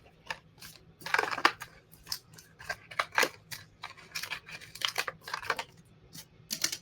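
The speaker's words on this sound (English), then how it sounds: "I want to cut this a little bit here." Scissors snip through paper for a junk journal double envelope, a close series of crisp, irregular cuts and rustles over a few seconds.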